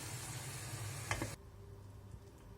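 Mushroom sauté simmering in a covered pan after half a tea glass of water is added, a steady soft sizzle with a couple of brief clinks before the bubbling drops to a quiet, low simmer.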